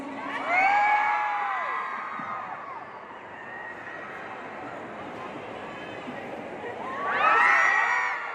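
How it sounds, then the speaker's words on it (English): Fans scream and cheer from upstairs at a fan event, bright high shrieks swelling at the start and again near the end, with a steady crowd hubbub between and voices talking over it. "Yeah, I hear more screams."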